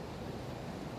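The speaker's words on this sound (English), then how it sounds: "it's raining really hard outside." Heavy rain pours outside, a dense, even hiss of steady noise heard faintly with nothing else on top of it.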